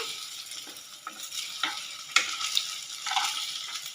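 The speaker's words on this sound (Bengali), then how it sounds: "একটু ভালো করে ভেজে নেবেন।" Potatoes for chilli potato frying steadily in hot oil, a continuous close sizzle broken by several sharp spatters and scraping stirs, with no talking.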